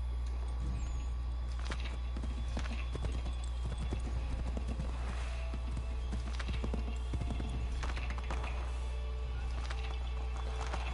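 Horse hooves clip-clopping in a steady walking rhythm with occasional neighs in a PS4 video game, near and continuous over a low background hum, with faint voice in the background.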